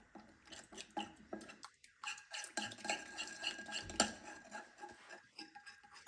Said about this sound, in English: And just stir that together.